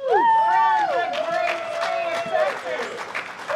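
Applause and crowd noise greet a plane of Texas firefighters arriving, with scattered clapping building in the second half under a prominent talking voice.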